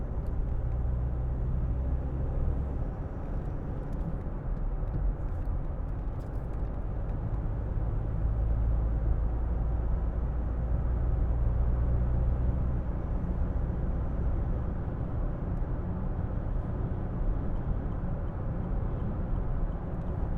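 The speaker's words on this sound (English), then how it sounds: "Getting a little bit of wind noise off the roof bars" Cabin of a 2007 Land Rover Freelander 2 TD4 on the move, with steady low road rumble and wind noise from the roof bars and crossbars, continuous and even throughout, with nobody speaking.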